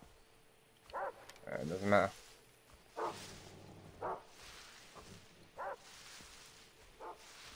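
Dogs in the video game Far Cry 3 on Xbox 360 bark in repeated short, fairly faint yelps spread across the scene, with a player talking briefly over them.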